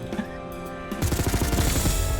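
Submachine gun fire in a video game: after a second of quieter game music, a fast, rhythmic burst of close, loud shots rattles continuously to the end.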